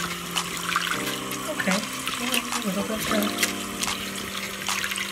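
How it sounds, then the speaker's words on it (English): A konjac body and face sponge is rinsed under running water, giving a steady splashing and trickling wash close by while a person talks over it briefly. "rinse it in the water, show you what that looks like"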